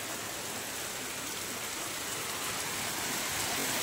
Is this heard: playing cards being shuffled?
no